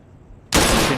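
Gunfire in a competitive shooter match as a player shoots through a wall. Quiet background gives way to a sudden loud burst of rapid shots that stays dense and harsh to the end.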